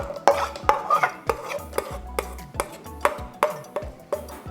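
Tamarind, chilli and coriander paste being stirred into a pot of curry-leaf and garlic kuzhambu: a spoon scrapes and taps the pot in a steady rhythm of about two strokes a second, close and clear, with a soft sizzle beneath.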